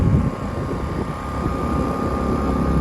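A Biltema inverter generator idles in economy mode, giving off a steady, close engine drone with a thin constant whine riding on top, even in level throughout with no voices.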